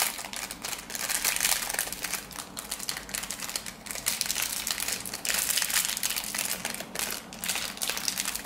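Plastic packaging around a small LOL Pets toy is torn and crinkled open up close, producing continuous dense crackling and rustling in uneven bursts, with no talking over it.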